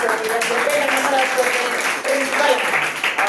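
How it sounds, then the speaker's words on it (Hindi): Audience at a GTSE result ceremony for Gurukul Classes in Paliganj applauds a guest, with steady, dense clapping throughout, along with some voices over it. "तो अरविंद सर के लिए सबको जोरदार ताली बजाओ"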